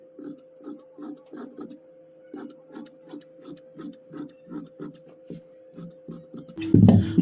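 Scissors cut through shirt fabric on a tailoring table, giving a steady series of short rhythmic snips close by with a faint constant hum underneath, ending in a louder burst of handling noise.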